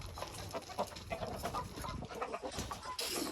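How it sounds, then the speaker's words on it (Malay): Backyard chickens cluck and chatter in a busy, overlapping flock during feeding, with soft pecking and rustling close by and no talk. "Kita bagi ayam makan."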